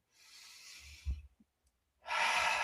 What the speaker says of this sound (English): take one slow breath